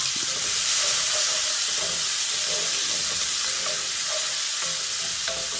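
Chopped onion sautéing in leftover bacon grease in a pan, a steady loud hiss and crackle of frying with occasional stirring clinks, no talk.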